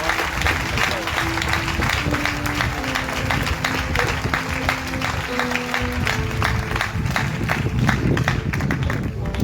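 Congregation at a church revival testimony festival in Bassam applauding and cheering, a dense, steady wash of clapping and crowd voices with some musical tones running underneath.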